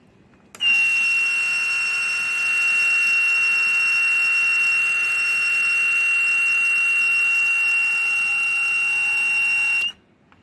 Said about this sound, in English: You heard the buzzer making a sound because of electricity